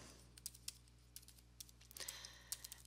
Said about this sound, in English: I'm going to go ahead and type a fake URL.